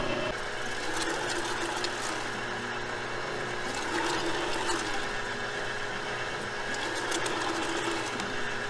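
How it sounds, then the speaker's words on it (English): A grinder processes horseradish root with a continuous loud mechanical whir and churning hum that holds steady from start to finish. "We want to make sure we don't clog up our grinder"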